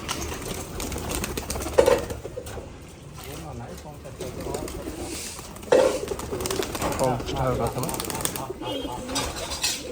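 Giribaz pigeons of the matching Rajshahi colour coo repeatedly at close range, soft throaty calls rising and falling over ten seconds, with a few brief wing flutters and faint voices in the background.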